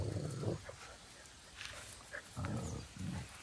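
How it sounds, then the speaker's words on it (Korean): A dog growls in low, rumbling bursts on a grassy field, repeated a few times at moderate distance with quiet gaps between. "에이, 으르렁대지 마라, 튼튼."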